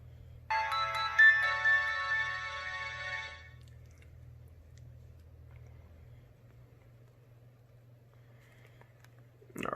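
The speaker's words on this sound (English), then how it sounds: "So we're going to do the ringtones and wallpapers on this." A Samsung SCH-A850 cell phone on US Cellular plays a bright electronic ringtone melody for about three seconds. A low steady engine-like hum runs underneath and continues after the tune stops.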